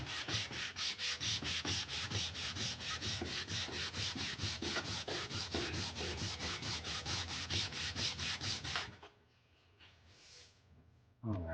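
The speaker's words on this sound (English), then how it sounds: "got that sanded flat." A piece, likely metal being prepared for heat treating, is sanded flat with fast, rhythmic back-and-forth strokes, loud and close for about nine seconds before stopping to quiet.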